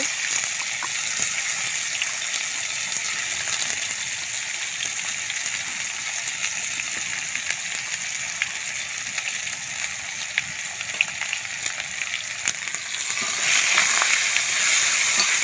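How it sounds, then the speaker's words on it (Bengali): Onions go into hot oil in a pan for a chicken kosha, producing a continuous hissing sizzle that swells louder near the end, with no voices present. "এবার ওই তেলের মধ্যে আমি পেঁয়াজটাকে দিয়ে দেব।"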